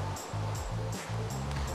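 Minecraft ocean waves wash in a steady, soft rush beside a seaside village, with a faint rhythmic repeating pattern layered over the surf and no talking.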